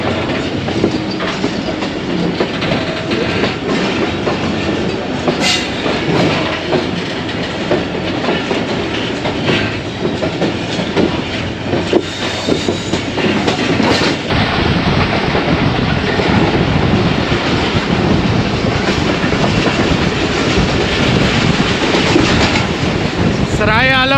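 A train pulls away from Kharian Cantonment station, wheels clicking and clacking over the rail joints in a loud, continuous rumble, with wind buffeting the microphone and a faint squeal at the end.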